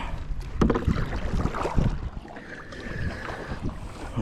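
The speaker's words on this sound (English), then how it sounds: "So let's just paddle back that way a tad and we'll get reset up." A fishing kayak is paddled on open water. Close splashing and dipping strokes of the paddle mix with wind noise on the microphone and water rushing past the hull.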